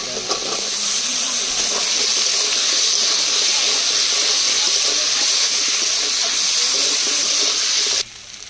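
Taro root (kochurmukhi) hits hot fried masala in a pan, setting off a loud, dense, steady sizzle close by that holds for about eight seconds before dropping sharply.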